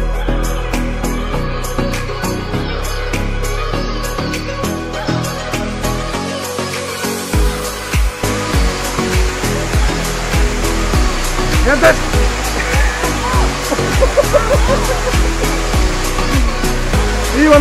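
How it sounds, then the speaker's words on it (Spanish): Los Tercios waterfall near Suchitoto, El Salvador, roars in a loud, steady rush close by, and a voice speaks briefly over the falling water. "llegamos aquí hasta la cascada de Los Tercios"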